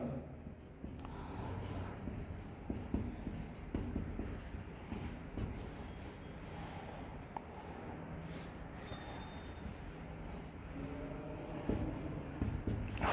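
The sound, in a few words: writing by hand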